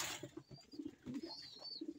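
Faint, soft coos from a young pigeon, several short low murmurs spread across a quiet background with a thin high whistle passing behind.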